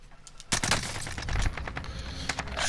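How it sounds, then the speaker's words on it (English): Gunfire crackles in a battle royale style video game with a sniper firing, a mix of sharp shots and rapid bursts, loud and fairly close, over continuous background game noise. "Other guy's sniping"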